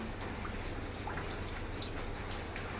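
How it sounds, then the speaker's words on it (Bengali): Big raindrops falling outdoors, a steady, even patter with scattered individual drop hits, faint and distant-sounding, with no talk. "বেশ বড় বড়ই ফোটা পড়ছে,"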